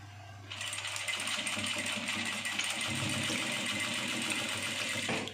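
A sewing machine runs close by, stitching along the edge of the boning on an over-bust corset, a steady mechanical hum and whir that starts abruptly and keeps going for about five seconds before stopping.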